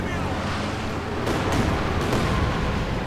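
A Katyusha rocket artillery barrage in a World War II strategy video game thunders as a dense, continuous wash of booming impacts and rumble, with sharper bursts breaking through near the middle and a faint voice underneath.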